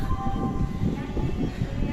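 Ambient rumble of a train at Mangalore railway station, a steady low, dense roar with faint tonal hum throughout, fairly close and continuous.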